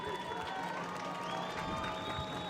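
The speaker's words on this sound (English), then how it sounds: "The Colerain faithful are cheering and clapping, trying to urge this defense to do really an impossible task" Home football crowd for Colerain at a night high school game, cheering and clapping steadily from a distance, a diffuse roar with scattered shouts and whistles throughout.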